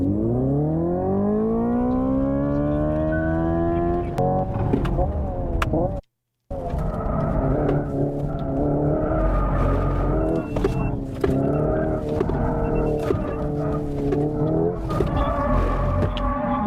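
A car revs hard at full throttle with squealing, skidding tires, the engine roaring loud and close through rising pitch and gear changes, broken by a brief silent gap.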